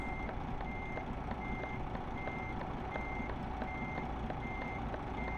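Reversing alarm on a North American-style truck in Euro Truck Simulator 2, a steady, evenly spaced electronic beep repeating about once every half second over a constant low engine rumble, with no talk.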